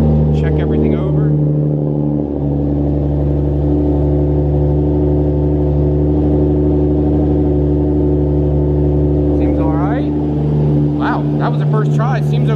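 A Toyota MK4 Supra engine idles steadily after starting, a close, even low hum running throughout, with people talking briefly at the start and near the end.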